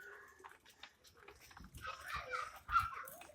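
A puppy outdoors gives a few short, faint whimpers and yips spread over a few seconds, with brief quieter gaps between them.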